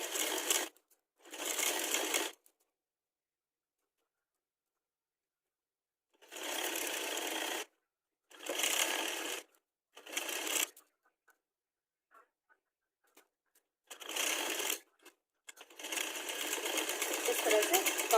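An electric sewing machine stitching a girls' top, running in several short bursts of rapid whirring with pauses between them, close and fairly loud, and the final run is longer.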